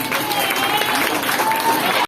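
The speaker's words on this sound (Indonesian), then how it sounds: "Terima kasih, tepuk tangan." Brief burst of audience applause at a national Bible study gathering, dense clapping from a crowd that cuts off abruptly after about two seconds.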